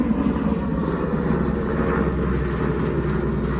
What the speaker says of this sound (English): It's letting a huge helicopter go over me.